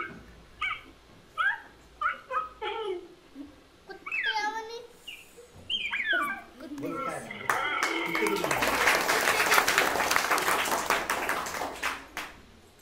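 A voice imitates a cheetah's cat-like call with short, repeated meowing chirps and yelps, followed by a burst of crowd clapping and applause.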